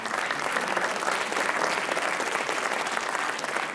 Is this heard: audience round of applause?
yes